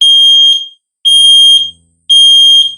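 A ZEN smoke alarm set off with its test button via remote control gives three loud, piercing high-pitched beeps, each lasting about three-quarters of a second, evenly spaced and close to the microphone.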